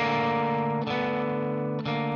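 An electric guitar with heavy distortion and chorus-like effects plays a droning chord progression, sustaining thick chords that shift upward in two quick changes.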